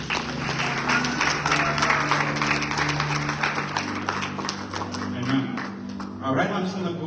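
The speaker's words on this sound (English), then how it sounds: "Could you give yourselves a round of applause?" Applause from a church congregation at a sermon, steady and moderately loud throughout with scattered voices and a low hum underneath, tapering near the end.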